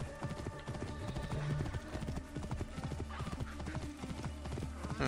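Rhythmic clip-clop of galloping hooves in Assassin's Creed Origins, close and steady, with a brief whinny and game-like background music underneath.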